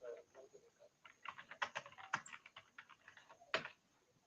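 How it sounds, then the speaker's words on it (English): Computer keyboard keys clatter in irregular bursts of quick clicks, close and fairly crisp, with one sharper stroke near the end and no talking. "I was typing in caps."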